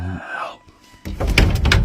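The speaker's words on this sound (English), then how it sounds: "Just who is sliding the doors?" Closet doors slide open with a rough, rumbling scrape and a few knocks, loud and close. A short voice and a faint steady tone come just before.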